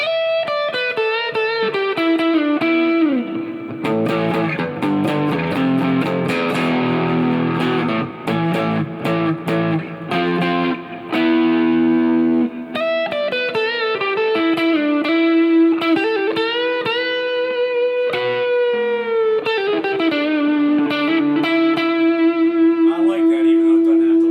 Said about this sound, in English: this is more distortion with a little bit of reverb.